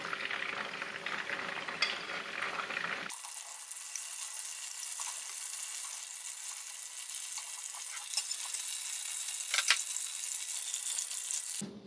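Bell peppers fry in an oiled pan for vegan stuffed peppers, giving a steady, close hiss and crackle of sizzling oil throughout. The sound holds at an even level, with a brief shift early on and a few sharper pops near the end.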